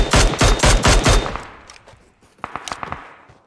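A burst of rapid automatic gunfire in the PUBG Mobile video game, loud and close, followed by a few scattered, fainter single shots.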